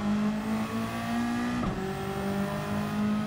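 An old Group 3 race car engine drones at a steady high pitch during a racing game time trial, holding near-constant revs with a brief dip and shift midway before settling back into a loud, continuous tone.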